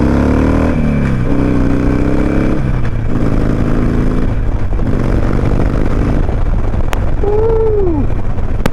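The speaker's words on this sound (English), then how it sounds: "for a Sportster, this 1200, you get on it, it's got some pull, man. It goes." A Harley-Davidson Sportster 1200 motorcycle is heard from the rider's position, loud and close, with the engine rising and falling through several gear pulls under steady wind noise.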